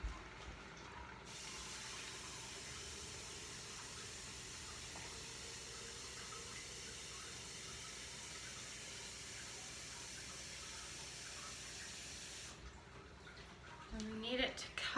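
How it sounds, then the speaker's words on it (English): Cold tap water runs steadily into a pot of chicken bones for gluten-free chicken stock, a constant broadband rush that continues without break for most of the stretch before cutting off near the end, followed by a few faint clinks. "I'm just going to keep adding cold water."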